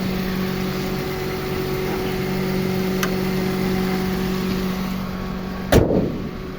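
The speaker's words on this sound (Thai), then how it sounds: "ผมขออนุญาตปิดฝากระโปรงนะครับ" The hood of a 2006 Toyota Corolla Altis with a 1.8 VVT-i 16-valve engine is slammed shut once, a single loud nearby thud over the steady hum of the idling engine.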